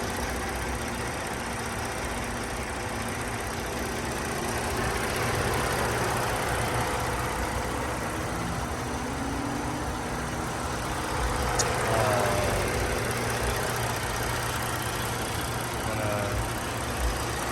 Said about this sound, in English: you can take a listen to the engine for 20 seconds or so.